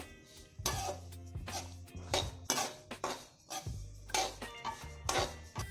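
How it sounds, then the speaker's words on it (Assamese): Sesame seeds dry-roasting in a pan for Bihu sesame laddoos, heard as repeated scraping and clinking of a utensil against the pan in irregular bursts, close and fairly loud, with no talking. "ফুটালৈকে ভাজিব লাগিব। মই তিল ভাজি আছোঁ।"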